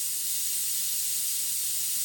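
An airbrush sprays paint in a steady, soft, close hiss of compressed air that runs unbroken and alone for the whole stretch.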